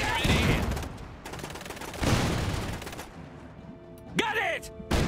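Bursts of gunfire crackle through the chaotic din of an attack in the game Iron Harvest, with repeated loud volleys layered under battlefield noise and shouted voices.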